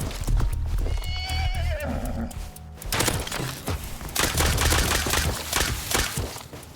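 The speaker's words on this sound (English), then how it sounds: "there's a guy on a horse up there" In a desert military-themed video game, a horse whinnies with a rising-and-falling cry, then hooves clop in a quick rhythm alongside bursts of gunfire, all loud and close.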